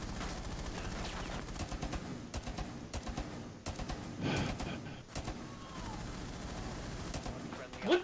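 Rapid gunfire bursts in the Rainbow Six Siege video game during a team deathmatch on a presidential plane, with sharp repeated shots, clattering volleys and short gaps, loud and close, with a few vocal sounds mixed in.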